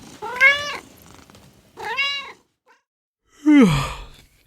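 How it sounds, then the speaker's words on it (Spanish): A domestic cat meows three times with pauses between, the calls clear and close with nothing else heard. "También juego con mis gatos."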